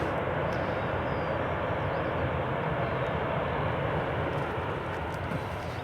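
An airliner lands at Newcastle International Airport, its engines spooling into a steady roar of reverse thrust while braking on the runway, distant but continuous, with no voices.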